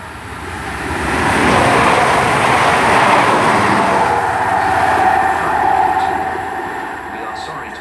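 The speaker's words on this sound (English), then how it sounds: "passing through now is a service from Plymouth to Aberdeen" A passenger train on a Plymouth to Aberdeen service roars through Worle station without stopping, a loud broadband rush swelling and holding for several seconds before easing.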